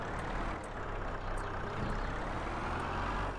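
A skid steer loader lifts spray tanks onto a trailer. Its heavy engine gives a loud, steady, close rumble throughout, with no pauses.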